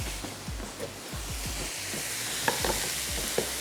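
Onions frying and being stirred in a pan, a steady loud sizzle with occasional scraping strokes of a utensil, close by with no talking.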